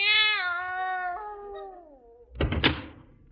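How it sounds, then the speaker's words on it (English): A cat meows from inside a drawer in an old radio comedy scene, one long drawn-out falling yowl up close, followed by a short thunk as the drawer is handled. "There's nothing in there but a cat."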